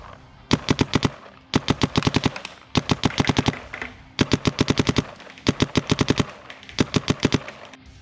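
Dye M3+ paintball marker firing rapid bursts, six volleys of about eight to ten sharp, loud, evenly spaced shots each, separated by brief pauses, with no talking.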